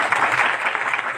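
A church congregation applauds for Jesus during a sermon, with a short, dense wash of many hands clapping together at steady loudness.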